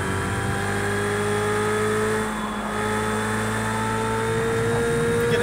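A car engine in the racing game Project Cars 2, played in VR on a motion rig, holds a steady humming drone with layered harmonic tones that dip briefly midway before resuming at the same level.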